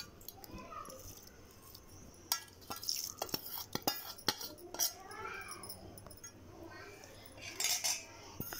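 A spoon mixes mango ginger pickle in a metal dish, producing irregular clinks and scrapes that come in clusters of sharp taps, fairly close and moderately quiet.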